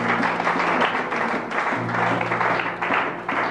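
A church congregation bursts into sustained applause after a French-language sermon reading, a steady dense clapping that fills the space for a few seconds with no voice over it.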